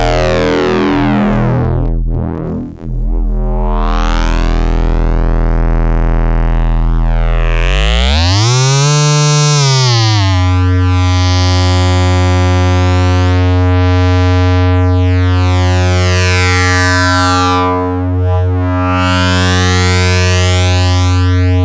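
Doepfer A-137 wavefolder synthesizer module fed by LFOs, a loud continuous synth drone whose harmonics sweep and fold, rising and falling in slow, warping waves with no talking.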